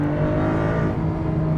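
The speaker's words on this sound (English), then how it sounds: "And then you have the flat six sound there as well." Porsche 911 992.2 Carrera S flat-six engine, a steady droning growl with strong low harmonics heard from inside the car, loud and sustained without any voices.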